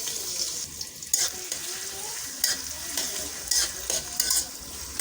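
Onions go into hot oil in a wok along with fenugreek seeds and garam masala. A soft, continuous sizzle is broken by several sharper bursts of scraping as the spoon stirs, with no talking.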